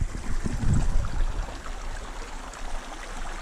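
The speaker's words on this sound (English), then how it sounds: "Such a pretty creek." A pretty mountain trout creek in the San Juan Mountains of Colorado flows steadily, a close, continuous rush and burble of water with a heavier splash early on, heard alone.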